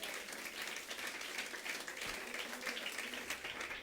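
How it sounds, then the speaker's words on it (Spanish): A church congregation claps loudly and steadily together during a Spanish-language sermon, a dense, even wash of applause that fills the space without pause and with no voices standing out. "Le damos un aplauso"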